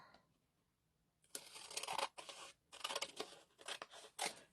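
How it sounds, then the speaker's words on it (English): Scissors cutting paper up close, a series of crisp snips and rustling slices coming in quick bursts after a quiet start, fairly faint overall with no talk. "We're going to cut this off here."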